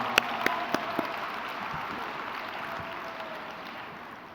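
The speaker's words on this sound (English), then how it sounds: "Could you just put your hands together for them?" Soft, distant applause for the graduating class of 2022 at a charter high school graduation ceremony, with a few sharp claps standing out at the start before it settles into a faint, steady wash.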